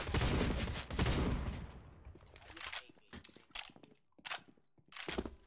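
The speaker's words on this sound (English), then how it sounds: "I'm using the shotgun though." Shotgun blasts in the online shooter CS:GO: a loud burst of firing at the start, then several separate sharp gunshot bursts spaced through the rest, heard alone.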